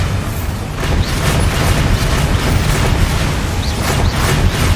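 A Bombarda spell explodes in the Hogwarts Legacy video game, a loud, sustained rumbling boom with a dense crackling burst that fills the whole moment, with no voices.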